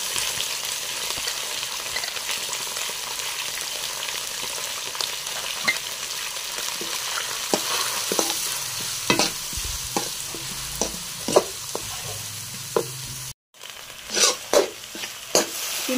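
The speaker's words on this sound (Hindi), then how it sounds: "शिमला मिर्च हमने डाल दी और इसको हमने 2 से 3 मिनट के लिए हमने इसको पकाया" Sliced bell peppers (capsicum) frying in a pan: a constant sizzle with scattered sharp scrapes and clicks from stirring, which grow busier toward the end. No one speaks.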